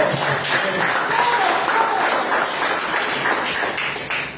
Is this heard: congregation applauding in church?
yes